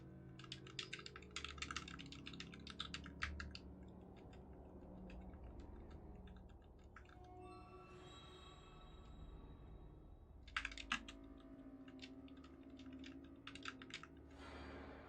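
Computer keyboard keys clattering in quick bursts of rapid typing during a World of Warcraft session, close and fairly faint, with pauses between flurries and soft game sounds underneath.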